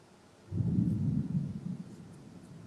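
A deep roll of thunder rises suddenly and rumbles on for about a second before settling into a low, steady background murmur.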